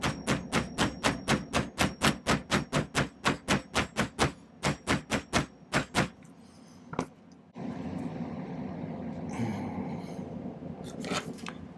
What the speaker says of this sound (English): I'm going to use my plastic hammer to kind of flatten this out a little bit.